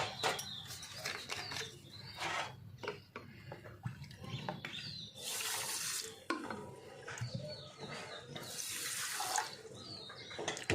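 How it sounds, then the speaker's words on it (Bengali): Water is poured from a measuring cup into sugar to make syrup for sweet potato pantua, a close splashing, trickling stream in a home kitchen that swells and fades across several pours. "এই কাপের মেজারমেন্টেই আমরা জল দিয়ে দেবো"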